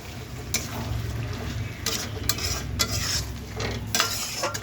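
Boiled peas and potatoes being stirred into a pan for ghugni, with soft steady sizzling beneath and several sharp scrapes and clinks of a spoon against the pan.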